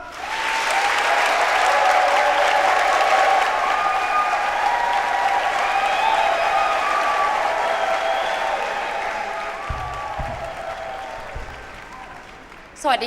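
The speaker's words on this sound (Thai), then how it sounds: "ขอเสียงปรบมือกับวงเพอครับ" An audience applauds a band at a music performance, a loud, dense wash of clapping mixed with crowd cheering that holds for several seconds, then thins and fades toward the end.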